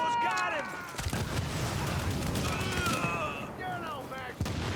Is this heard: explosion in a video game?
yes